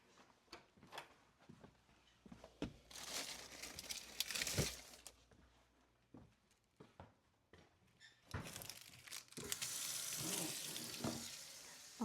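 Ginger sautéing in a home kitchen pan, a quiet intermittent sizzle with brief stirring scrapes and clatters, swelling into steadier frying near the end, with no talk.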